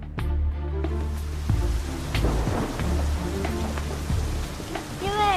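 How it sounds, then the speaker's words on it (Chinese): Heavy rain pours steadily outside during a stormy night, a continuous dense hiss with low thunder rumbles rolling underneath, and faint voices and other sounds of a show set mixed in. "因为外面下了大雨"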